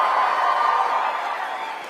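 Rally audience at Turning Point USA's America Fest in Phoenix, Arizona, cheering and applauding as a dense, steady crowd roar that fades slightly toward the end.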